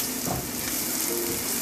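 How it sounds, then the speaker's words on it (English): Onions cooking in a pan for a raw banana fry, giving a steady, close sizzle with faint stirring, with no voices. "let the onions cook until it turns golden brown"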